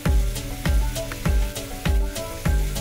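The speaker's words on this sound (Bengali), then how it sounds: "দিয়ে এবার এগুলোকে লো ফ্লেমে ভালো করে এপিট ওপিট কিন্তু ভেজে নিতে হবে" Marinated prawns sizzling on a tawa over a low flame, a steady frying hiss with rhythmic thumps and scraping repeating roughly every half second, close and fairly loud.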